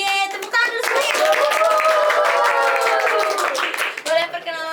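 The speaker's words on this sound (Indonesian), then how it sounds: "tepuk tangan dulu semuanya" Audience clapping at an Indonesian talk show welcoming an anti-drug ambassador guest, a steady run of claps heard under a host's cheerful voice and loud throughout.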